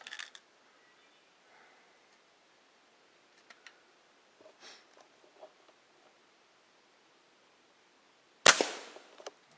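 A sharp metallic pop of an air rifle pellet from a Crosman 2240 carbine striking a soda can, loud and sudden near the end, after a stretch of faint ticks and quiet rustling.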